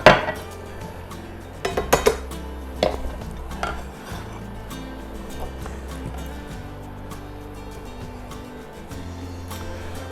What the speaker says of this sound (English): So we've done the garlic, the carrots and the onions. Stirring those through.